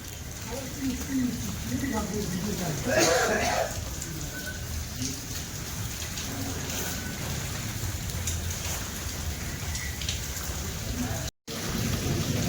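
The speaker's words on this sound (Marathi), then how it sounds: "पावसाला सुरुवात झालेली आहे" Steady rain patters throughout at a bull market in Nampur, Maharashtra, with people talking over it and a brief louder burst of activity early on.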